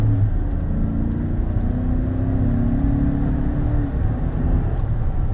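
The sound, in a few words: GMC Sierra 1500 SLT pickup truck transmission shifting gears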